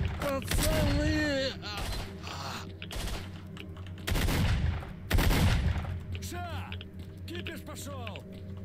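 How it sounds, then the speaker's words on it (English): Gunfire in the video game S.T.A.L.K.E.R.: Shadow of Chernobyl: sharp bursts of shots and rattling volleys mixed with game effects, several clustered in a few seconds, with a player talking over parts of it. "I'm getting shot from below."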